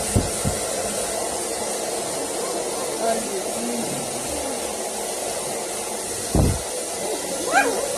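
A steady, loud blowing roar fills the clip from a dog grooming blower running continuously, with a few brief thumps and a faint squeak near the end.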